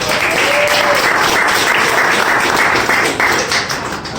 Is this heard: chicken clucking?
no